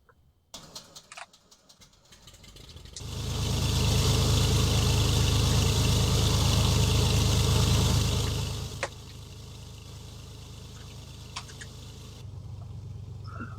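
Small propeller airplane engine cranking, catching and roaring up loudly for several seconds, then settling into a steady lower idle rumble, heard close.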